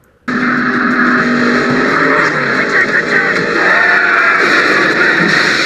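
Car crash in the 1999 film Payback as Porter and Val ram the Chow gang's car: a loud, sudden burst of impact and grinding metal that stays dense and harsh throughout.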